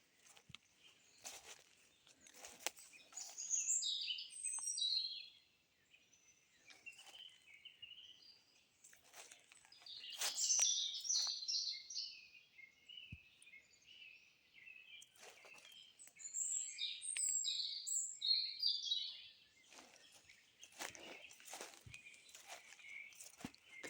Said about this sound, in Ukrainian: Вже, вже мій соловей посвистує.